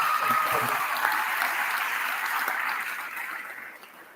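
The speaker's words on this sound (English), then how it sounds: "I want a more lusty round of applause, please" A graduation audience at the El Dorado West Secondary School 2022 ceremony breaks into applause. Dense, sustained crowd clapping fills the hall, holding steady before tapering off slightly toward the end.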